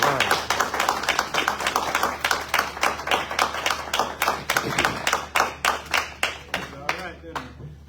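Audience at a graduation ceremony clapping in a steady, fairly loud rhythm of distinct hand claps that gradually thin out and fade toward the end.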